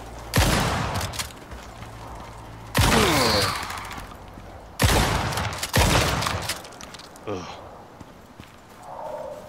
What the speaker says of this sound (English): shotgun shots don't even kill this thing in one shot